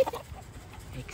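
Hens clucking close by in a short burst of soft, choppy calls.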